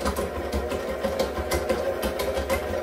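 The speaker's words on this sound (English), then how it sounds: "Okay, so we have 3 eggs in our mixer." Electric mixer beats three room-temperature eggs for a homemade coconut cake, a steady close motor whir with a rhythmic, slightly pulsing hum throughout.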